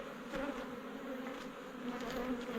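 Honey bees from a hive in a storm-felled tree drone in a continuous, fairly soft buzz, with individual bees swelling slightly louder as they pass close.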